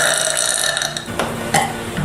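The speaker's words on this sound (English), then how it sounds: "It was a soda burp." A loud, drawn-out soda burp from a woman, rough and close, with a short trailing gurgle.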